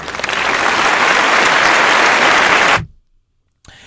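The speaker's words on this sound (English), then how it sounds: "I just put the applause on" A canned applause sound effect plays loud and dense for nearly three seconds, then cuts off abruptly into silence before faint sound returns.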